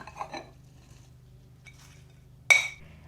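Potatoes being served onto a plate with a spoon, a few soft clinks of spoon on dishware early, then one sharp clear clink near the end, in an otherwise quiet kitchen.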